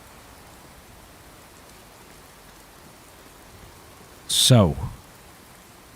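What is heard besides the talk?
rain falling in Fallout 4 video game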